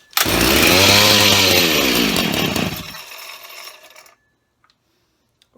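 A Jonsered chainsaw with a broken throttle and leaking fuel, held on its high idle setting, runs loud and close for about three seconds, then cuts off and fades into near silence.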